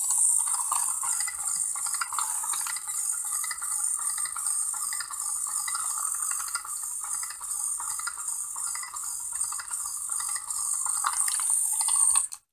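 A motorized walking toy robot runs on a 100 RPM motor, its mechanism giving a steady, close, fast ticking whir with a high thin whine throughout, then cutting off at the end.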